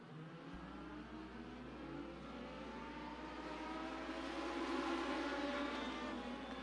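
Legends race cars accelerating on the green flag at Benton County Speedway, a rising field of engines droning together from a distance, steadily building in volume across the stretch with no talk over it.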